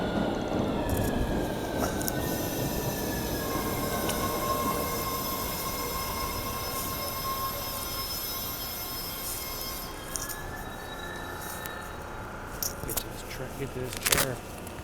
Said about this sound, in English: Here's the train, as you always love.